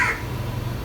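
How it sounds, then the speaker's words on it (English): A crow caws once, loud and close, at the very start, followed by a low background hum of an outdoor kitchen setting. "as you can hear, Mr. Crow is also very excited about fish molly."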